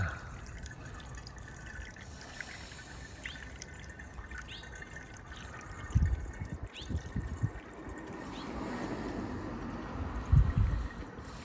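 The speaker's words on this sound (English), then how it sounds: "one of these cups of water gets poured in" Water poured from a cup into a Century Machinery steam cleaner's tank, giving a few short, splashy pours and trickles over a steady background hiss, louder near the end.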